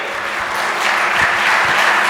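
A hall audience at the Saraswat Brahmin Mahasammelan inauguration in Jodhpur, Rajasthan bursts into steady applause, a dense wash of many hands clapping that swells slightly and holds loud throughout.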